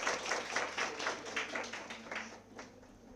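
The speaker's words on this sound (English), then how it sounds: "big rounds of applause" Brief applause from an audience at an academic program, a burst of clapping with distinct pulsing claps that fades toward the end.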